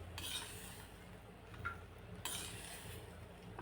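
Softened cooked green chillies are spooned from a pan onto a plate after the heat is turned off: faint scraping and light metallic clinks of a spoon against the pan, with a quiet residual sizzle, recorded close.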